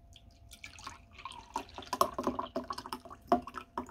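Salty water poured from a saltwater lamp into a small cup, a soft trickle with light splashes and drips that rises partway through, close and fairly quiet.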